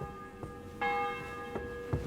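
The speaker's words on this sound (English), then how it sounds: "The bell's ringing for Hans the 5th time." A church bell tolls inside the medieval video game Kingdom Come Deliverance 2, with a few resonant strikes that ring out and hum with sustained overtones, moderately close and free of speech.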